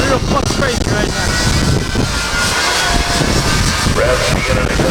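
A jet-powered truck, the Extreme Machine, revs its jet engine at a monster truck event, a loud continuous roar building steadily throughout, with crowd noise and talk mixed underneath.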